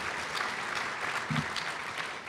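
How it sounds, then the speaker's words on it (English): A short stretch of steady audience clapping at a formal dinner, soft and even throughout with no voices standing out. "let's give him a round of applause for that"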